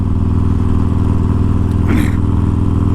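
Tuned Harley-Davidson Forty Eight motorcycle with a lighter, larger-diameter exhaust idling steadily nearby, a low, even throbbing rumble with a brief rise in the middle.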